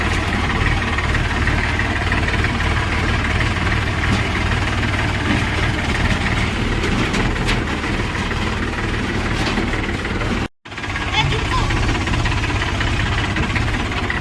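A tractor engine runs steadily at idle with a heavy, low knocking throb, close and continuous, with one brief cut near the end and no talking.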